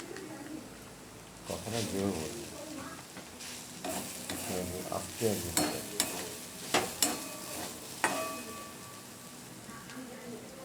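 Potatoes and carrots frying in a pan, with a steady low sizzle under several sharp scraping and clanking stirs of a spatula against the pan, close and irregular, and a voice talking briefly near the start.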